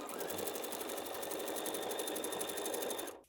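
Sewing machine sewing down quilt binding in one continuous fast whirring run of rapid needle stitching, steady and close, stopping at the end.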